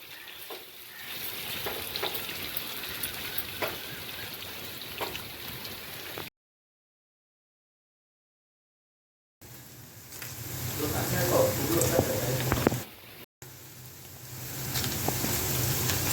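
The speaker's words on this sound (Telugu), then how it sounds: "చూడండి పన్నీర్ ముక్కలు ఏగిపోయాయి కదండి" Paneer pieces frying in oil in a pan give a steady close sizzle with a break of silence midway, and it grows louder and crackly toward the end.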